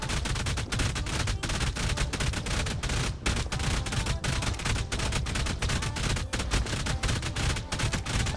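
Dense, relentless automatic gunfire from a base raid in the survival game ARK, rapid overlapping shots forming a loud, nearly continuous barrage with no pauses, no talk.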